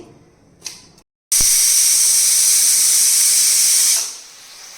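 A pressure cooker on a home kitchen stove vents steam in a loud, steady hiss that runs for about three seconds after a brief pause, then drops away to a softer fading hiss.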